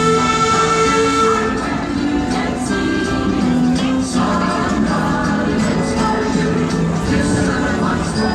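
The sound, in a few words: Busch Gardens railway blue train riding along the track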